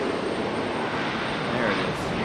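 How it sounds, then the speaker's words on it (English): American Airlines Embraer E175 jet at an airport, a steady broadband engine roar heard from a distance, continuous and moderately loud throughout with no clear change. "American E-175 on the move."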